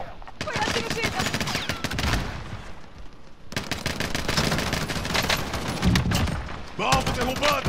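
Rapid automatic gunfire bursts and loud shots from a Call of Duty: Warzone match on Rebirth Island, dense and continuous across the clip with a brief lull, mixed with game voice callouts.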